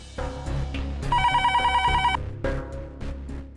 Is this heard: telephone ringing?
yes